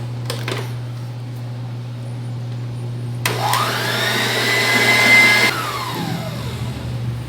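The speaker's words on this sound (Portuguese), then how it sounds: "As gemas já estão bem batidas, bem airadas." An electric mixer whirs loudly as it beats egg yolks for a peanut praline cake, briefly stopping and then starting again with a rising motor pitch that holds steady before cutting off, over a low background hum.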